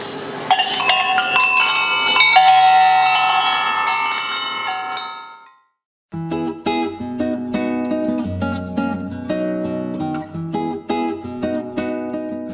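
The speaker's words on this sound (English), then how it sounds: "take a look at our bells" Bells at Arcosanti, Arizona ring out with rich, sustained overlapping tones, fading to silence, then a second bright cluster of chiming bells rings steadily.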